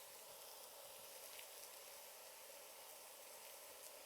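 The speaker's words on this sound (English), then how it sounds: "I'm just going to put that in that hot pan, and you hear that sizzle" Steady, quiet sizzling of a beef hamburger patty frying in a hot pan, a soft continuous crackling hiss with no talking.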